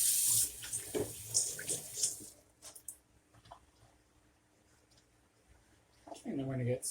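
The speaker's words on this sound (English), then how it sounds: "I'm gonna wash my hands real fast." Hands being washed under a running kitchen faucet, a short loud rush of tap water that fades after a couple of seconds, with quieter handling and clinks after it and the water returning at the end, while chile verde chicken enchiladas are being made.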